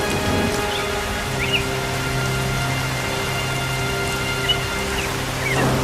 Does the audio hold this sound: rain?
yes